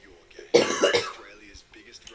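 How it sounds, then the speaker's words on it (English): A single sharp cough close to the microphone, a short harsh burst followed by quiet. "Cough."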